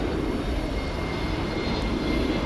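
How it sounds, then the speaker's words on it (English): An American Airlines Airbus A321neo arriving from Los Angeles lands at night at Dallas/Fort Worth airport. Its engines give a steady, fairly loud rushing drone that barely changes over the short span. "we'll tilt up and catch the final moments of flight of American 2732 coming in from Los Angeles"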